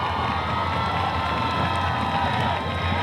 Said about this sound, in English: Crowd fired up in front of us.